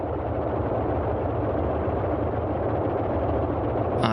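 Boeing 247D piston engines held near 1500 RPM in MSFS 2020, a steady loud droning rumble with constant low throb, unchanging throughout with no talk.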